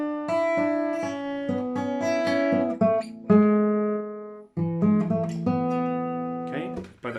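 Acoustic guitar playing a song's chord part as single picked notes instead of strums, a clear sequence of ringing plucked tones with brief pauses, close and alone.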